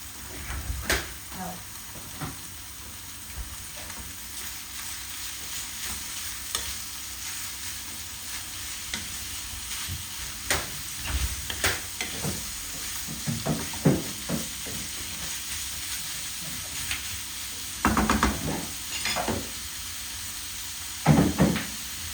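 Half of 250 grams of ground meat frying in a hot pan gives a steady sizzle with occasional stirring clatters and scrapes, close and moderately loud, over a faint constant hum.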